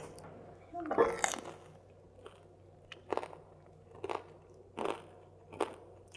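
Close, loud crunches as crunchy air-fried dumplings are bitten and chewed, one big bite followed by four spaced crunchy chews over a quiet background.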